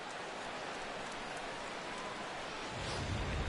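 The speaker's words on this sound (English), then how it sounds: "And Dan, when it comes to pitching in the rain, what changes?" Steady rain pours down on a Mets vs Braves baseball game, a dense, even hiss of drops that grows slightly heavier toward the end, with no voices.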